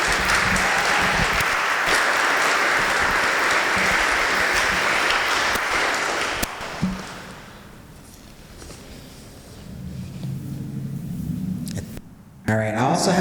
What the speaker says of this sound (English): So just please give her, Ms. Teal, another round of applause.